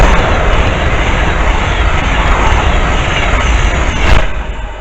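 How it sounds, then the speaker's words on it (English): An Avanti Class 390 train rushes through a station, a loud, steady broadband roar of wheels and air that holds for several seconds before a brief swell as it passes close. "The next train pass by is Avanti 390."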